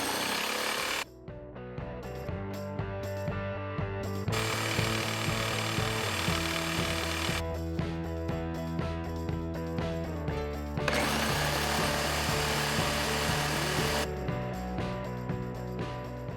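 Saw blades from Milwaukee, Diablo and Lenox cutting through an old hardwood hedge post, a loud continuous power-saw whine with several separate cutting passes and brief pauses between them.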